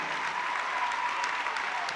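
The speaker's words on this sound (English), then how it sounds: "Jeff Reyna getting a standing ovation from the crowd here at North Salem High School" A crowd at a 1998 state high school basketball game at North Salem High School, North Salem against Jesuit, gives a standing ovation, with steady, dense applause and cheering holding at an even level throughout.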